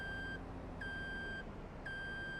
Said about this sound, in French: Pour le bip de la moissonneuse?